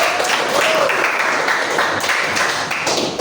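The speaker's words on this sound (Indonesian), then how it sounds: "Beri tepuk tangan kelompok satu." Classroom of students clapping for a presenting group, a close, uneven patter of hands with some thumping taps, loud and continuous, with a voice faintly under it.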